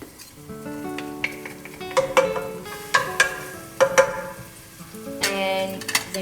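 Crushed garlic and ginger frying with cinnamon sticks in a pan for a Mauritian chicken curry, with a steady sizzle and recurring spoon scrapes and clinks against the pan, close up.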